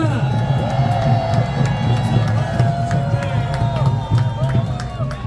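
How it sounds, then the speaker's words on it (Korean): A crowd at an outdoor rally before the Constitutional Court in Korea claps and cheers for the performer JK, a busy mix of clapping, shouts and babble over a loud low drone, with voices throughout. "우리 JK에게 다시 한번 큰 박수 부탁드립니다."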